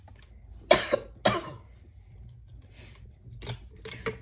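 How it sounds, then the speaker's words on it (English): Person coughs and chokes while talking, giving two sharp, close coughs followed by several softer throaty bursts in a quiet room. "All of a sudden I started talking and started choking."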